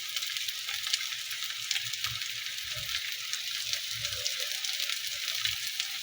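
Chopped garlic and two medium onions sizzle in a generous amount of oil in a frying pan, a steady soft crackle with occasional low stirring clunks and no voices.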